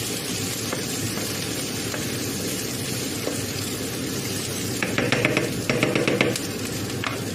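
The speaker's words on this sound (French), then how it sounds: "Dans la poêle, j'ai mes oignons qui reviennent." Onions fry in a pan with a steady, close sizzle that carries through the whole stretch, plus a few brief stirring scrapes near the end and no voices.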